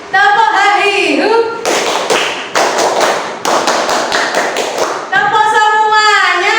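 Students in a classroom clap out the hahihu routine, a run of crisp, patterned hand claps in quick succession, loud and near, framed by a teacher's voice speaking before and after.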